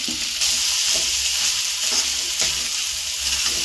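Ground spice paste goes into mutton tripe frying in a pan for boti thoran, giving a steady, loud close sizzle with faint stirring scrapes throughout and no voices.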